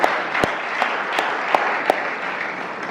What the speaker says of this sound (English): Please a big round of applause for our governor.